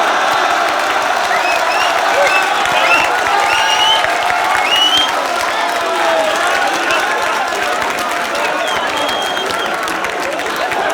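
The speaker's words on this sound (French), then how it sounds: "Voilà, c'était ça, Minem, vous pouvez l'applaudir." A crowd at a rap battle event applauds and cheers in a loud, continuous roar of clapping and crowd noise that holds steady throughout, with voices mixed into the din.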